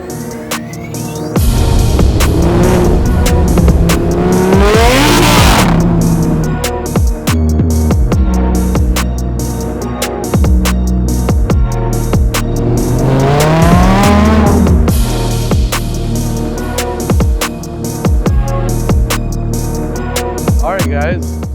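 Gen 1 Audi R8 widebody with a faulty body kit, engine firing up and revving hard, loud and close, with two big rising-and-falling revs and a throbbing idle between, voices talking underneath.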